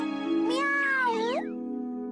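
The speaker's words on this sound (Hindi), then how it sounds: "अरे ये तो वही बिल्ली है।" A cartoon cat from Doraemon gives one long, clear meow that rises and then bends down in pitch, close and loud over a steady humming background.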